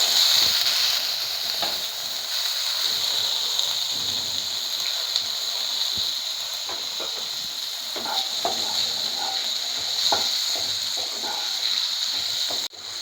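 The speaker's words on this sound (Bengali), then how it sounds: "এবার একটু হলুদ দিলাম। আলুগুলো ভাজতে দিলাম।" Potatoes fry in hot oil with turmeric, giving a continuous hissing sizzle at a steady level, with occasional small pops and crackles. No one talks.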